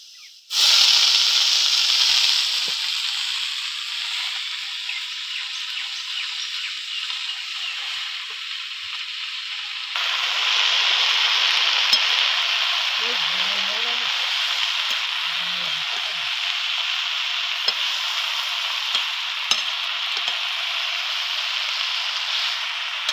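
Water spinach (kolmi shak) hits a hot pan with a loud burst of hiss that settles into a steady, continuous frying sizzle. A brief second swell comes partway through.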